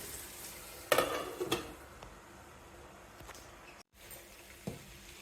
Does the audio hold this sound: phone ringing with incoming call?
no